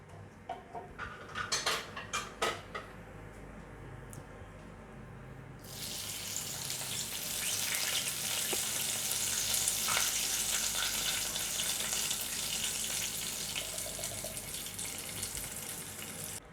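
Water is poured into a hot pan of spiced potato mixture with chilli flakes and bursts into a loud, steady hiss of sizzling that follows a few stirring scrapes and carries on unbroken, close by, with no voices.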